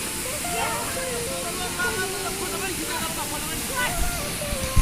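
Jyamire waterfall roars as a constant broad rush of falling water, with several people talking and laughing over it and a short knock near the end.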